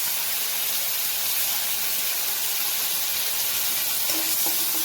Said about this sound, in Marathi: कढईमध्ये तेल गरम केलेलं आहे, आता आपण दाणे चांगले भाजून घेऊ